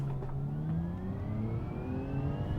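A turbocharged 1982 Viper concept car engine revs in a video game, its muted, steady tone climbing gradually in pitch as it pulls, heard alone at a moderate distance.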